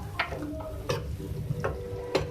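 Green onion and potato curry with chopped coriander being stirred and mixed in a pan, giving a few distinct spoon scrapes and clinks against the metal over a faint background sizzle, with no talk.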